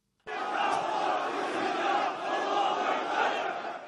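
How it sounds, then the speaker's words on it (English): A massive street rally in Istanbul, with a million or more people waving Turkish flags, roars as one continuous, dense crowd chant that stays loud and steady throughout. "Istanbul was a sea of red as 1 million or more people took to the streets waving the Turkish flag"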